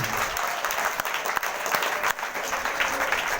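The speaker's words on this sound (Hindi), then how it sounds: "जोरदार ताली से धन्यवाद" A church congregation at Sunday prayer claps loudly and continuously, a dense wash of hands with a few sharper individual claps standing out throughout.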